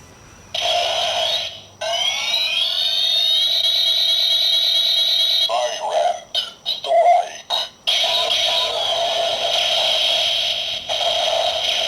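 A DX Amazons Driver toy transformation belt from 2016 plays its electronic sound effect after its handle is twisted: a loud looping synthesized alarm-like tone with warbling, rising beeps, broken by a few choppy bursts, then resuming steadily.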